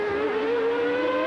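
A Tyrrell Formula 1 car during warmup at the 1992 Australian Grand Prix, sliding under braking, gives a steady, loud, high engine whine that holds a near-constant pitch throughout, with no voices.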